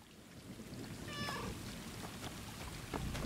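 A cat in the video game Stray gives one brief meow partway through, heard over a steady background of rain and ambient game noise.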